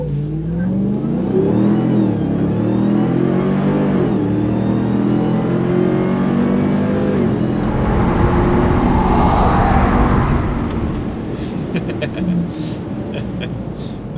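Two cars launching in a drag race, a Ram 1500 TRX pickup against a Ford Focus RS, engines roaring loud and steady as they accelerate, rising to a harsh peak before easing off, with voices talking over them.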